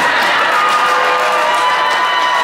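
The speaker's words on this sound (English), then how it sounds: "Hey, no, don't cheer." A large live audience cheers loudly and continuously, a dense roar of shouting voices that fills the whole short moment without pause or any single voice standing out.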